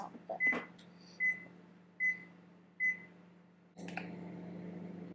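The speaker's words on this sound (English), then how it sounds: "Now the microwave has just gone off" A microwave oven finishes with four short, evenly spaced electronic beeps, fairly faint in a kitchen, followed by a clunk as its door is opened and a low hum.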